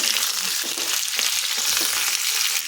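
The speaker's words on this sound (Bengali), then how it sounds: "এখন তেলটা গরম হয়ে গেছে, সেদ্ধ করে জল ঝরিয়ে রাখা আলু তেলের মধ্যে দিয়ে দিচ্ছি" Boiled, drained potatoes hit hot white oil over a high gas flame, crackling in a loud, dense, close sizzle with small bubbling pops and light stirring, with no voices.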